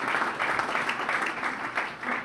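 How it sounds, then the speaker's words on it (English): Applause from a dinner audience at a mayors' tribute event in Washington, DC, steady dense clapping filling the room at moderate level throughout. "Let's give him a round of applause for his"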